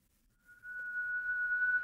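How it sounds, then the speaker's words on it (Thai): An ambient whistle from the Corruptbox horror video game enters after a brief quiet and holds as a single steady, thin, eerie tone, clear and unaccompanied, with no talk. "เป็นเสียงแบบผิวปากแอมเบียนนะ"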